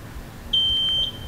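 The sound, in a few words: Gesits electric scooter keyless remote beeping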